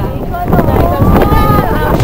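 Strong wind in Laoag buffets the microphone with a loud, rumbling roar, while a voice speaks over it.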